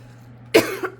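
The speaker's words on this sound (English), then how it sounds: "got a little cough today" A single sharp cough from a person, loud and close, followed by a short throat rasp and a second brief cough burst right after a stretch of quiet room hum.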